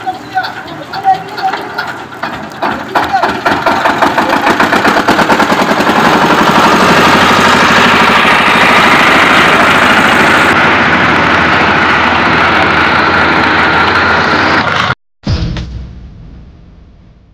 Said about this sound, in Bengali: আর দেখতে পাচ্ছ মেশিন কিন্তু এবারই স্টার্ট করা হচ্ছে